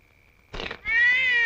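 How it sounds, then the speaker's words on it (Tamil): A cat meows once, loud and close, after a short rustle, a single drawn-out whining cry heard alone. "இது பூனை"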